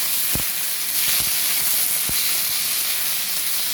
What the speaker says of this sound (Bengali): পেঁয়াজ কুচি করে কেটে রেখেছিলাম, এইটা একটু সটে করে নেব